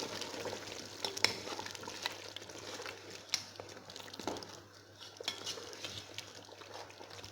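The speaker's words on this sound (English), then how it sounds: "Then I'm going to stir it." Chicken kienyeji stew with green pepper stirred in a pot, quiet scraping and clinks of a spoon over a soft background sizzle, close and faint, without speech.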